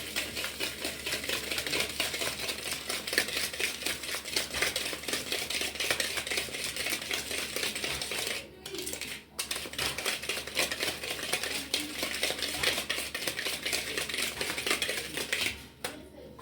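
Batter for a vanilla cake beaten by hand in a mixing bowl set on a cloth, a steady, busy scraping and clattering rhythm close up that runs continuously with two brief pauses.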